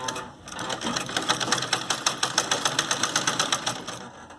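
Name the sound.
sewing machine stitching a Punjabi suit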